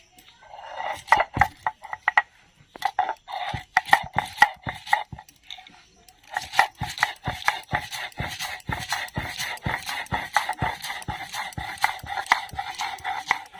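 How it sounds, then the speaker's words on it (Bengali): Mustard seeds, green chilli and a little salt are ground by hand in quick, regular strokes. A steady grinding rhythm stops briefly, then resumes faster and denser until the end. "আমি সর্ষে ঢ্যাঁড়স করবো, তাই আমি সর্ষেটা বেটে নেব। সর্ষে, কাঁচা লঙ্কা আর একটু সামান্য লবণ।"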